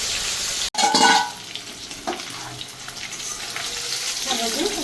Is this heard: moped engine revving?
no